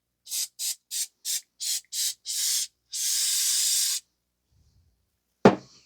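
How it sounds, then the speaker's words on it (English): Seven short hissing bursts from an aerosol can of penetrating oil sprayed on a Toyota Corolla front wheel bearing, then one longer continuous spray, followed by quiet and a single sharp knock. "You might need to spray some penetrating oil to work this through and clean this up."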